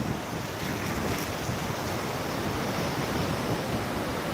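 Sea waves breaking on the shore at Tiruchendur make a steady, loud wash of surf mixed with wind noise on the microphone, continuous throughout with no voices.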